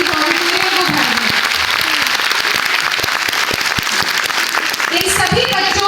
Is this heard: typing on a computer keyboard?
no